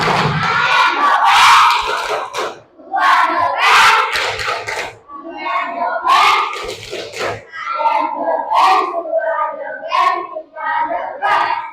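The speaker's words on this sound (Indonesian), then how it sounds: "Tepuk tangan kita semua." A class of children clapping and shouting a chant in unison, loud bursts of rhythmic claps and shouted syllables in short repeated phrases, close by, with a teacher's voice leading between the bursts.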